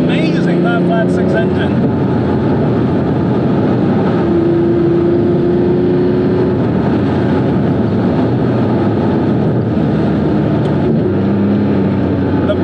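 Interior drone of a Porsche 911 modern classic restomod with a naturally aspirated flat-six engine, a loud continuous low engine note while driving with slight pitch shifts, heard steadily throughout.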